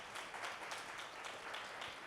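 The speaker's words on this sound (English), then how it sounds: "Please give them a round of applause" Audience applause at a talk on partnerships and sponsorships, a dense, steady wash of clapping from a crowd that holds at an even level throughout.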